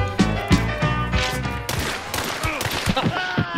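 Rapid gunfire in a hunting video game, several sharp shots and bursts in quick succession, loud and close, with a voice speaking between them.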